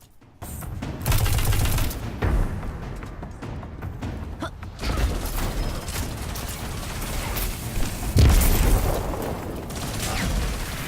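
Auto rifle fire in Destiny 2 comes in dense bursts mixed with mechanical weapon clicks and handling noises, spread through the stretch with short gaps between volleys.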